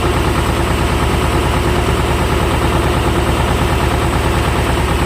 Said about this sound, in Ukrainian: Тракторець трошки розігрівся і можна пробувати